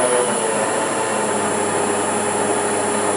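Land Rover LT230 transfer box running in on the bench with fresh oil, a steady continuous mechanical whine and rumble with a high sustained tone, no voices.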